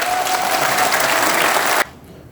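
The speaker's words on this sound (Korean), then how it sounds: "제가 나올 때 박수가 제일 조그만 것 같아요" Audience applause at a conservative political debate forum, loud and sustained clapping up close that cuts off abruptly near the end.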